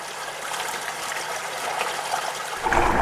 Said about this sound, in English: This is the place where the stream comes down off the Swartberg and actually goes into the furrow